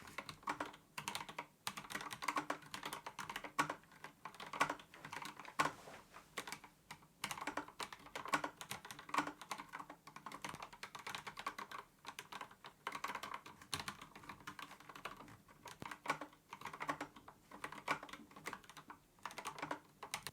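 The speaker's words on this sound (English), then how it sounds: "this is how it sounds with PBT keycaps, Oil Kings, lubed, and they've got switch films on them as well" Someone types steadily and quickly, close up, on a Kinesis Advantage360 Pro split keyboard fitted with lubed Oil King switches, switch films and PBT keycaps, giving soft, muted clacks with no talking.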